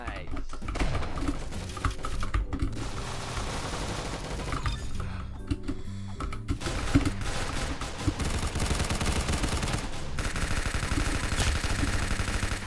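Steady, dense gunfire from the Roblox game Arsenal runs throughout, with continuous rapid shots layered over game noise while a player talks excitedly over it.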